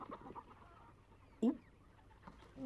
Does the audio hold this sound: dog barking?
no